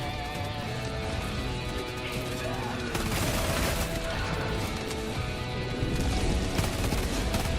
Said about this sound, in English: Certainly going to be in an area where they hear a lot of shooting,